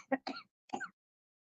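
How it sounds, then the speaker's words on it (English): Two dry, short coughs and a rough throat clearing, close and fairly quiet, followed by silence. "Still got that dry cough from my cold."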